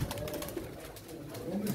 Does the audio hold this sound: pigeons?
yes